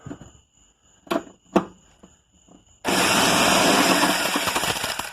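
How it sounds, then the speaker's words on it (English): A 14 mm socket on a power tool loosens the top rear shock bolts of a 2010-2015 Honda Pilot: a few light clicks, then a loud, sustained whirring burst close by. "for the top bolts, you get your 14 millimeter, and you go on in there"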